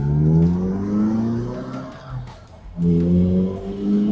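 A 2013 Morgan Plus 4 four-seater accelerates hard, its engine note rising steadily through the gears with a brief dip at a gear change before climbing again. It is heard from inside the car with no talking.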